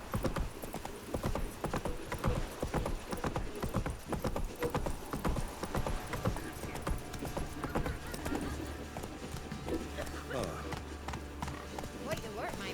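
Horse hooves clip-clopping steadily in The Witcher 3 video game, a continuous rhythmic clatter with occasional whinnies, heard under ongoing character dialogue.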